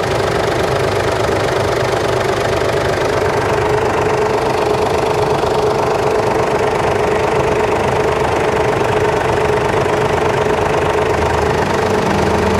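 A motorbike engine, apparently a 2010 Honda Future, idles steadily and loudly close by, its even low chug running without a break and with no voices.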